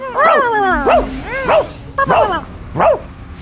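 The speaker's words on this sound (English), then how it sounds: "Dogs will always bark" A dog gives five sharp, loud barks in an even rhythm, each a quick rising-falling yelp, close up with a faint hum underneath.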